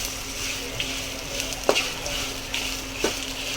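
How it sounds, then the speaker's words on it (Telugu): Chuduva snack ingredients with red chilli sizzle softly in hot oil, a steady frying hiss with a faint low hum and a few light clinks of stirring. "లైట్ బ్రౌనిష్ గోల్డెన్ కలర్ వచ్చే వరకు వేయించుకోవాలి."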